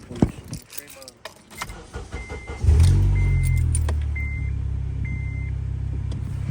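Keys jangle and an ignition cranks before an Acura TSX car engine catches and settles into a steady, close idle, with people talking briefly at the start.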